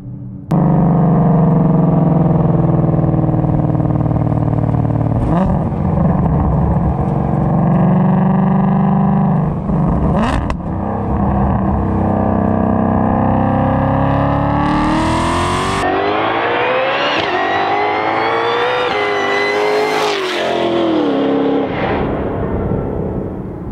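A 2020-or-newer Shelby GT500 with a MoTeC M150 engine controller roars through a hard full-throttle power pull, its engine note climbing loud and close through the gears with brief shift breaks, with no talk over it.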